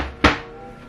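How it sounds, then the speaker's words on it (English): A kitchen cupboard door opens with a single short wooden thunk, close and loud, fading into a quiet room. "Open the next cupboard door."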